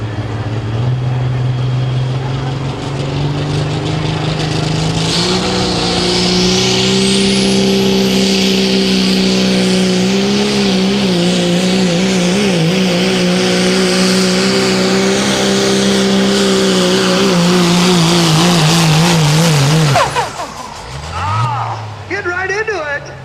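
A diesel 4x4 pulling truck roars at full throttle during a competition pull at a tractor pulling event, a loud sustained engine drone with rising whine and wavering pitch that cuts off abruptly near the end.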